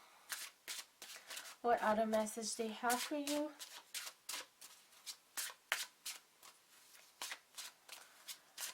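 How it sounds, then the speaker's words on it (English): Deck of oracle cards being shuffled and drawn, with a rapid riffle of cards followed by a string of soft, evenly spaced card flicks and taps, under quiet talking by a woman. "let me just get a last card from the Second World Oracle cards"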